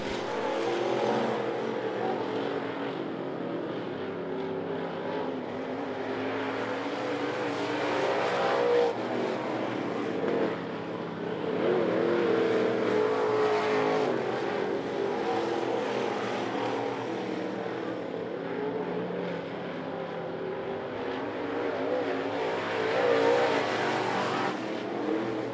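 Sportsman race cars lapping a short oval at I-75 Raceway in a late-race pack, their engines droning loudly and steadily for the whole stretch, with passing cars rising and falling and no voices.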